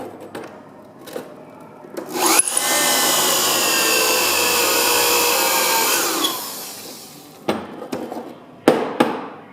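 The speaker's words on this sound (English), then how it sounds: "So go ahead and drill down just a little bit more." A power drill bores a countersink into a wooden arcade dance pad, whining loudly and steadily for about four seconds, with handling knocks and taps before and after.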